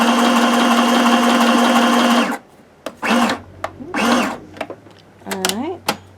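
Sewing machine stitching a large zigzag through patchwork fabric, a loud steady motor whir running for about two seconds and then stopping, followed by quiet talk.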